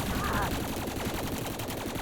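Gunfire from a new gun in Elite Dangerous: Odyssey, a dense rapid stream of shots running continuously for about two seconds over a steady, busy game background.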